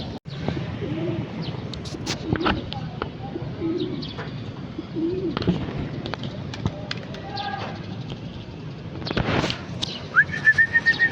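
Pigeons coo repeatedly in a flock in Pagbilao, Quezon, soft throaty calls recurring at moderate distance, with a few chirps and a brief whistle near the end.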